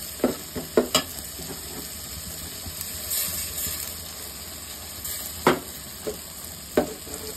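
Cumin seeds frying in hot oil for a mashkalai dal with rohu fish head, a steady sizzle with a few sharp pops and stirring clatters, fairly close, with no talk.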